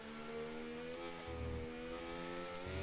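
An F1 car in a racing video game runs through its gears, its engine a faint, steady high whine with layered harmonics that rises slightly toward the end.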